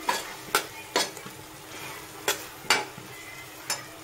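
Masala paste fries in a pan over high heat while a spoon stirs it, giving a soft continuous sizzle broken by several sharp scraping strokes.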